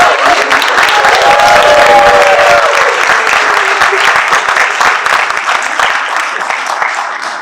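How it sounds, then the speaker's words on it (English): Loud, sustained audience applause fills a fashion-in-film event hall, dense clapping from a large crowd holding steady before tapering slightly, with a faint voice briefly audible early on. "A big round of applause for them."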